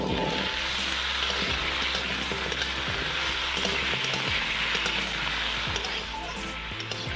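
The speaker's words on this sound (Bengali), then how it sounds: "আলুটা এখানে হালকা ভাজা হয়ে গেছে" Diced potatoes frying in a pan with a steady, crackling sizzle, loud and close, under a constant low background hum, without any talking.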